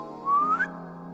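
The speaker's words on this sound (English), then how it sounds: "Ida enacts Plan B by drawing a circle in air and whistles." A person whistles one short, clear note that slides upward and then stops, heard over a soft, steady musical drone.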